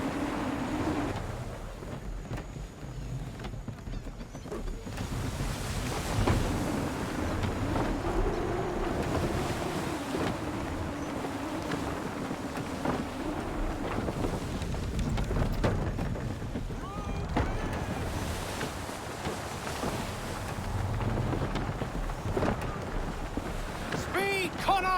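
A sailing ship at sea in Assassin's Creed III, with steady wind rushing past, waves washing against the hull and creaking timbers throughout, while voices talk over it now and then.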